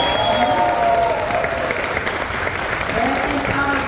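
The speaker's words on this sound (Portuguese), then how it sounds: "Podem aplaudir, porque ela merece" Audience at the Flis 2023 literary fair in Saquarema applauds loudly and steadily for a Brazilian woman author, the clapping dense and continuous with voices and cheers mixed in.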